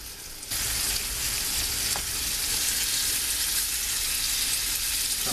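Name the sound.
oxtail pieces browning in a pan for oxtail soup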